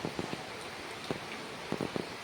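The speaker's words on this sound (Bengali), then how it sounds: "এখনও বৃষ্টি পড়ছে" Rain keeps falling after a strong storm, a soft, steady hiss with occasional close drips tapping on surfaces.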